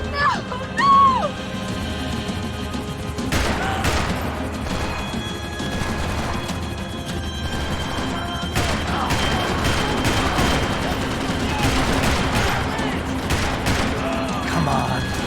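Video game gunfire from Max Payne 3, rapid shots and crashes rolling on continuously amid chaotic action, with shouted voices mixed in.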